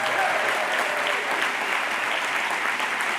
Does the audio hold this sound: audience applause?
yes